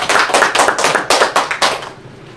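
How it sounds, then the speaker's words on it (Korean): A church congregation claps in praise to God with a burst of quick, loud, rhythmic hand claps. The pulses repeat steadily and then stop abruptly near the end. "우리 하나님께 영광의 박수 한번 올리도록 하겠습니다"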